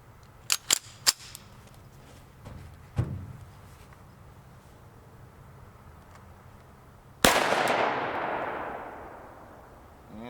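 Shots from an FN PS90 firing 40 grain Barnes VLC 5.7x28mm ammunition: three sharp reports close together near the start, a softer thump, then one loud, ringing shot with a long decaying tail outdoors.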